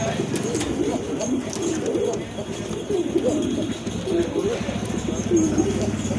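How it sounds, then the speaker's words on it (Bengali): Pigeons, local and foreign breeds kept for sale, coo in repeated low rolling phrases close by, several overlapping calls under steady background noise. "আসলে খুবই ভালো ডাকে কবুতরগুলো মাশাআল্লাহ।"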